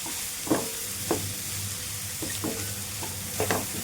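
Spiced masala for an onion samosa filling fries in a pan with a steady close sizzle, broken every second or so by brief scraping stirs, no voices.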